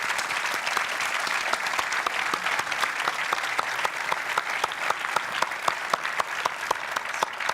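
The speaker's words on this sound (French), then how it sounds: "je voudrais que vous fassiez un tonnerre d'applaudissements, s'il vous plaît, pour l'accueillir sur scène" Sustained applause from an audience at an anniversary business gala as a guest speaker is welcomed on stage: dense, even clapping from many hands with sharper individual claps standing out, loud and continuous for several seconds.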